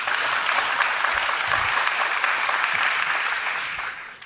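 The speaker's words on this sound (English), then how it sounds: "Give them all a round of applause, please." An audience at the Global Solutions Summit 2023 applauds to welcome a panel of speakers, giving a dense, steady round of clapping that fades toward the end.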